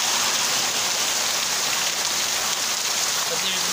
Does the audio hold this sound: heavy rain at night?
yes